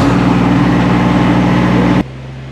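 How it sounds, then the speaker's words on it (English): A Kubota GR2120 lawn mower engine idles while warming up from cold, a loud, steady low rumble running evenly before cutting off abruptly near the end. "I'll leave the mower running, get it warmed up"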